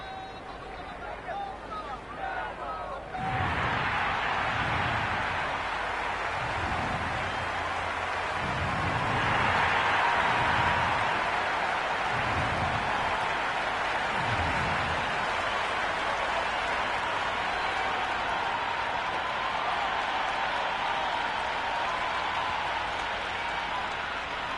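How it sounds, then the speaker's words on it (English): A cricket stadium crowd roars loudly before the first ball of a Mumbai Indians versus Gujarat Titans match, a steady wall of massed cheering with rhythmic chanting pulses, under a commentator's voice. "The crowd are making a heck of a lot of noise even before the first ball's been"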